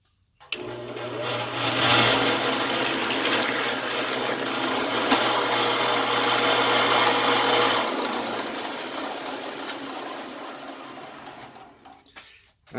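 A drill bit bores through a piece of very thin brass laid over ordinary cloth folded four times. A steady, whining drone of the motor and cutting runs for several seconds and then winds down, with no voices.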